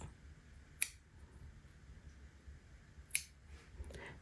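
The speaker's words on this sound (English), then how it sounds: "now I'm just going to cut these little strings off" Scissors snip loose crochet yarn ends on a small scrap-yarn pouch, giving two sharp, quiet clicks a couple of seconds apart against a faint, hushed background.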